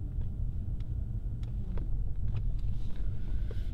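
A car drives around the Alster in Hamburg, heard from inside as a steady low engine and road rumble with faint wind noise and occasional light clicks throughout.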